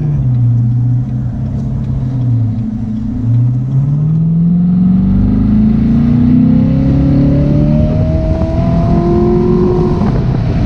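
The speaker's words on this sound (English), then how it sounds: "Wow, that exhaust note is just intoxicating." A Chevrolet Corvette Grand Sport accelerates hard, its exhaust note loud and close, climbing in pitch through the gears in long rising sweeps with a brief dip at a shift.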